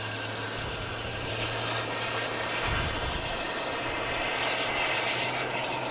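A JetBlue Airbus A321 arriving at Boston Logan International Airport from Seattle gives a loud, continuous jet roar with a low hum underneath, steady and fairly near throughout.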